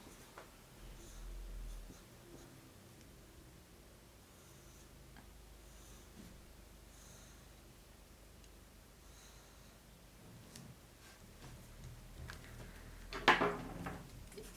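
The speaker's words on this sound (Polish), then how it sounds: "I koloruję środek sukienki." Crayon rubbing on paper as a drawn dress is colored in, a faint, steady scratchy scribbling close by with small clicks, ending in a brief louder rustle near the end; no talking.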